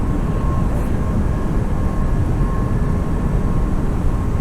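A JetBlue Airbus A320 taking off and climbing in Microsoft Flight Simulator, a loud, steady engine roar sustained throughout without pauses or voices.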